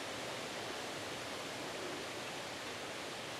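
A creek flows below in a California setting where an oil seep fouls the water, a steady broadband rush of running water holding an even level throughout with no voices.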